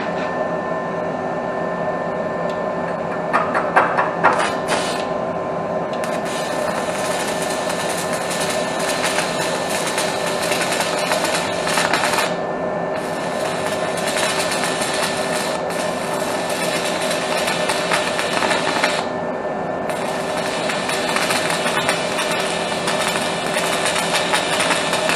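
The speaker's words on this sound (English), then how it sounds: "With a stick welder, you have to feed into it as you go" A stick welder burns a rod, giving off a steady, loud crackling and sizzling hiss that runs nearly unbroken for about twenty-five seconds, with a few brief dropouts where the arc stops and restarts.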